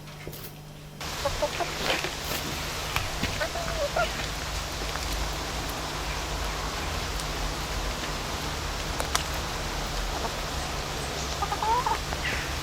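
Backyard hens clucking steadily in a suburban garden, a continuous layered chorus of bird calls over a constant background hiss like light rain, no talk.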